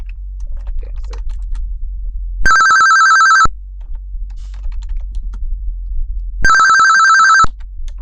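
Two loud electronic telephone rings, each about a second long and separated by a few seconds, sound in a Perry Mason video game over faint keyboard typing and a low hum.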